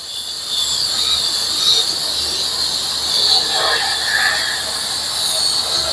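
Steady, loud hiss of hot steam jetting from a 2500W high-pressure steam cleaner, a continuous broadband rush held at even strength for several seconds with no talk over it.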